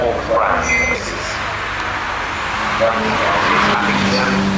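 A supercar runs fast at the Goodwood Festival of Speed 2021, tyres squealing and engine rising as it passes near, loud and sustained while a commentator talks over it.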